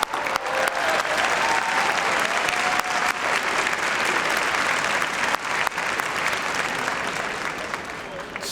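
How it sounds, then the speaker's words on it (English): Sustained applause for faculty and staff at a university commencement ceremony, a broad, dense roar of many hands filling a large hall for over eight seconds, with crowd murmur and faint voices underneath, tapering slightly at the end. "Let's give them a round of applause."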